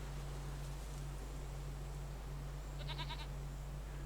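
A single short goat bleat from a farmstead in Farming Simulator 25, faint and brief against a steady low hum, with no talk.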